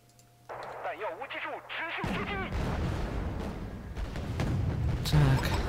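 Tanks, including T-80s, and other units firing in the strategy game Wargame: Red Dragon: after brief radio-like chirps, a dense, loud, rumbling barrage of overlapping blasts and crackling shots rolls on continuously.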